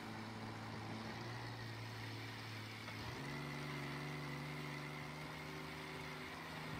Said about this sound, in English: Engine sounds horrible.